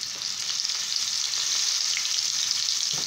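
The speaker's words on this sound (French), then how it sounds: "Donc je vais prendre mon poisson fariné. Je vais mettre dans mon huile" Floured pieces of fish frying in hot oil, a bright, even hiss of bubbling oil that holds steady and close for the whole stretch, with no voices.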